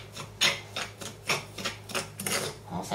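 Grated aromatics and garlic being mixed into a spice paste marinade for grilled beef, giving a series of soft rasping, scraping strokes in an irregular rhythm, close by with no talking.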